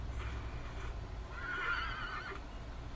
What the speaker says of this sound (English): Horse noises coming out of ponies.